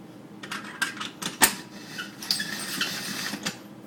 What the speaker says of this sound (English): Sprinkle flour into your pasta machine so that it doesn't stick to the rollers.